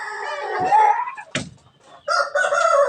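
A rooster crows loudly nearby, a long drawn-out call, followed by a brief sharp squawk and then another crow starting.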